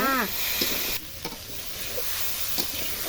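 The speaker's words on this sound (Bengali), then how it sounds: "এখন সবজি দিয়ে দিল, ভালো করে ভেজে নেবে।" Vegetables frying with spices such as turmeric and chilli powder in a pan, a steady bright sizzle with a brief stirring scrape at the start and occasional soft clinks of a utensil.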